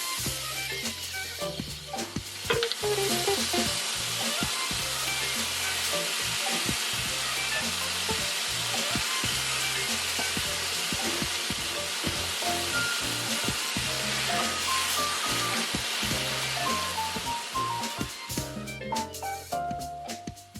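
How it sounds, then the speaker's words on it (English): Korean beef galbi short ribs fry in a pan over medium heat, giving a continuous loud sizzle and crackle with scattered pops and spits, steady and close throughout. "Heat up the pan, don't make it too hot, put the heat to the medium temperature and lay down the kalbi on the pan."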